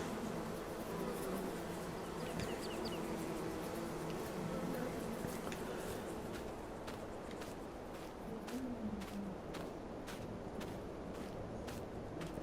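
Bees humming around beehives in the farming game Farming Simulator 22, a steady insect drone with faint footsteps underneath.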